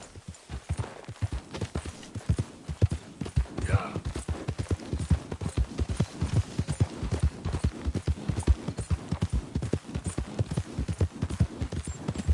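Steady, rhythmic clip-clop of horse hooves, close and distinct, continuing evenly throughout, with a brief whinny-like tone partway through and some indistinct talking in the background.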